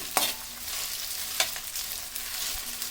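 Chamaduppalu (taro) fry crisp in a pan on high heat, with a bright, steady sizzle and a couple of sharp spatula scrapes, up close and with no voice.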